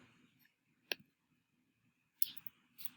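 Computer mouse clicks while opening a blank Google Docs file, three sharp, faint clicks spaced irregularly in a quiet room.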